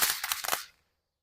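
Fireworks crackle in a backyard: a quick run of sharp, loud pops bunched within a split second, then sudden silence.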